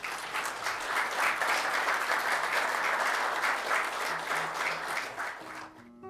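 Steady applause from a crowd, sustained clapping for several seconds before fading out.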